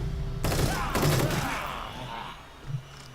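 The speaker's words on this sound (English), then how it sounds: "Keep shooting until they're dead or we run out of ammo." Rapid gunfire in the horror video game The Evil Within 2, a dense burst of overlapping shots and thuds that starts abruptly and continues loudly, then thins out into scattered softer impacts.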